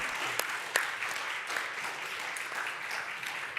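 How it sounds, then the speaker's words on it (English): A small audience at a crypto trading cup event claps at the close of a talk. The applause is faint and scattered, with a few sharper individual claps standing out against a soft, steady patter. "Oh, we got a clap."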